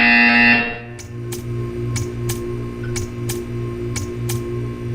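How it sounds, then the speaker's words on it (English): Buzzer in the video game Portal 2: a loud electronic tone cuts off after a second, followed by a series of short, evenly spaced sharp ticks over a steady low mechanical hum. "You will hear a buzzer."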